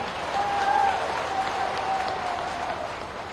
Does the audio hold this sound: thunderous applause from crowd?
yes